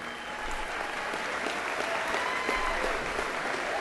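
Steady applause from a commencement audience honoring community college award students, a dense wash of many hands clapping at moderate distance throughout.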